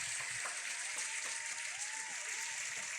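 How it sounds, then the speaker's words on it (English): An esports awards audience breaks into dense, sustained applause that stays loud and steady throughout, with faint whistle-like cries rising through the clapping and no speech. "So the crowd are going absolutely wild."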